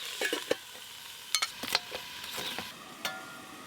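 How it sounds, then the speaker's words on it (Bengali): Dhenki fern greens are stir-fried in a pan with eggplant, a soft steady sizzle broken by scattered scraping clinks of a spatula against metal, faint and close by. "এইভাবে নাড়তে নাড়তেই শাকগুলো ভাজা হয়ে গেলে নামিয়ে নেব"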